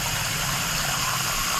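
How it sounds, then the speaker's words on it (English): Water runs steadily through the drainage holes of an empty custom planter with no soil inside, a continuous close rushing and gushing flow at even volume with no voices. "the water is going to run a little faster here than it would if"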